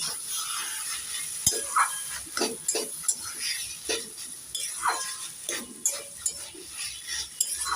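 A spatula stirs taro leaf greens cooked with chickpeas in a pan, giving soft, irregular scraping and clinking strokes close by over a faint background hiss.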